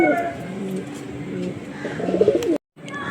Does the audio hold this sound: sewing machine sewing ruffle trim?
no